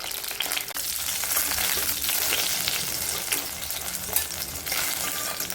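Brinjals fry in hot oil with a steady, dense sizzle throughout, close and fairly loud, with occasional scrapes and stirring knocks on the pan and no talk.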